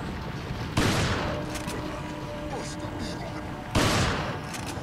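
Gunfire in Resident Evil 4: two loud, sharp blasts about three seconds apart, each trailing off slowly, with quieter game noise and faint chatter between them.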